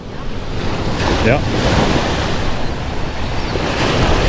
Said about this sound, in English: Sometimes you get the waves that come in just hard enough to crash over the top here.